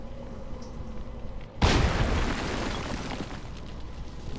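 A heavy explosion in the game XCOM 2: War of the Chosen bursts loudly after a low steady hum, a sharp boom followed by a long rumbling decay and crackling debris that lingers to the end.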